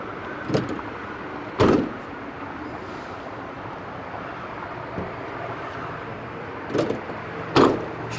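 Two rear doors of a 2017 Ford Transit 350 XL wheelchair van slam shut several seconds apart, each preceded by a lighter click, over a quiet outdoor background.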